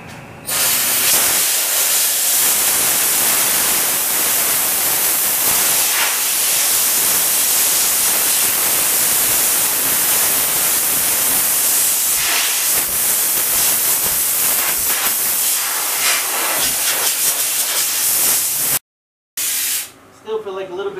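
A Harbor Freight sandblaster run by an air compressor sprays too much sand. It makes a loud, continuous harsh hiss for almost the whole time, with a short break near the end and speech faintly underneath.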